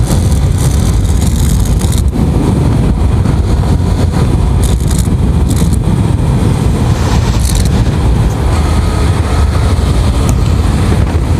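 A Yamaha R15 v3 motorcycle rides in sixth gear at speed, a loud, constant engine drone heavily mixed with buffeting wind roar across the microphone, unbroken from start to end.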